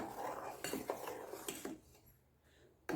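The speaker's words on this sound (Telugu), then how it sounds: "ఇప్పుడు దీన్ని బాగా మిక్స్ చేసుకోవాలి" A spoon stirs raw mango and mint sharbat sugar syrup in a pot, giving close, quiet scraping and clinking strokes against the metal that fade into near silence before a last sharp clink.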